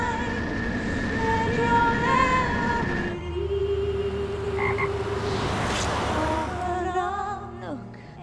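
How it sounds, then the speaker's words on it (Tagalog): A frog croaks in a steady, repeated series over a constant tonal background, with no talking. "Walang nakakaalam kung paanong napadpad doon ang palaka at kung anong nangyari sa kanya matapos ng rocket launch."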